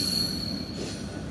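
A CSX train at Howell Yards in Evansville, Indiana gives off a sustained high metallic wheel squeal over a steady low rumble of railcars rolling past.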